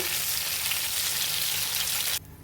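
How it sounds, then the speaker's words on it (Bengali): Pointed gourd (potol) fries in hot oil, giving a dense, loud, continuous sizzle that cuts off abruptly near the end. "আমরা এখন হালকা করে তেলে ভেজে নিয়েছি"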